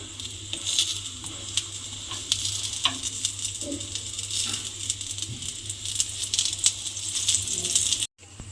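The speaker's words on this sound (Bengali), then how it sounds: "এইভাবে তেল দিয়ে দিয়ে লাল করে ভেজে নেব এটাকে" Bread frying in oil in a pan until reddish, a continuous soft sizzle with occasional light scrapes and clinks of a utensil, fairly quiet and close, without voices.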